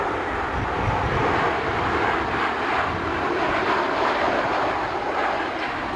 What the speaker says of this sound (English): he's going to do a low fly past with the rear ramp open and the landing gear down